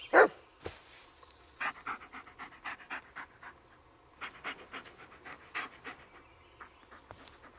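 A dog in the Blair Witch video game pants in quick, steady rhythmic breaths, fairly close, after a sharp opening burst, with faint game ambience underneath.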